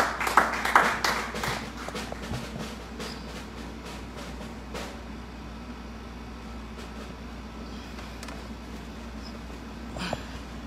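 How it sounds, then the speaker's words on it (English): Church congregation clapping for a woman during a praise and worship service: a loud burst of hand claps at the start that quickly fades into a steady room hum with only scattered claps after. "give her a great big hand clap"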